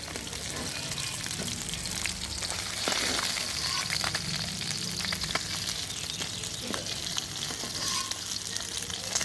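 Pieces of soft Baila fish fry in hot oil with a steady, dense sizzle and spatter that carries on without a break, faintly accompanied by small kitchen clinks.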